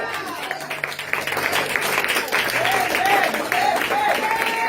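A church congregation applauding, a steady wash of clapping that holds for several seconds with voices and a rising sung or shouted tone riding over it.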